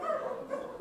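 An audience of people imitating a dog barking at a church service, a brief blended chorus of voices yelping and woofing together, fairly loud and close, lasting under a second.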